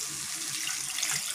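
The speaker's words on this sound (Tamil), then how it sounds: "தண்ணி ஊற்றிடலாம்" Water poured into a cooking pot while making semiya vegetable biryani, a continuous close splashing flow with a steady level and no speech.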